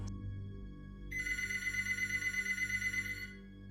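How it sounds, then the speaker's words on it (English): A telephone rings once with a sustained electronic tone that starts partway through, holds steadily for a couple of seconds and then stops, set over a low ambient hum. "the phone rang again."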